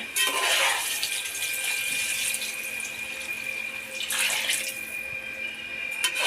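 Water poured out at home in a rural Telugu kitchen setting, a broad rushing splash in two bursts with a steady hiss between, fairly close and heard alone without talk.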